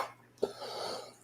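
A single short cough close to a microphone, followed by a faint breath and a tiny click, with no talking.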